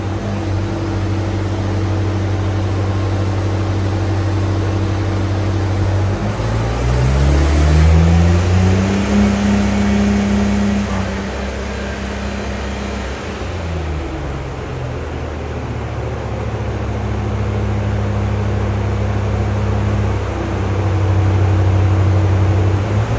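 A stock Nissan R34 GT-R engine warms up on a dyno, holding a steady idle drone, then revving smoothly up and back down before settling again, with a thin high whine over the steady hum.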